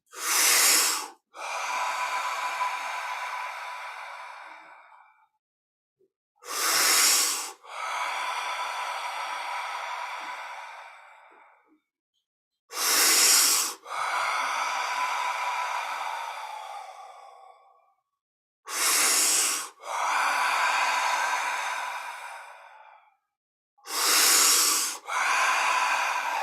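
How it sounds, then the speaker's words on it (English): Intense breathing driven by the lungs, repeated five times: each cycle is a sharp, forceful inhale followed by a long, loud rushing exhale, close to the mic with brief pauses between. "And breathe in with intensity. Using only the muscles of your lungs."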